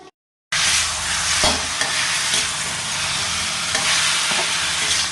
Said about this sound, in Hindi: हमने कद्दू को जो है छौंका लगा दिया है तेल में मेथी मिर्चा डाल करके, और अब ये पकने ही वाला है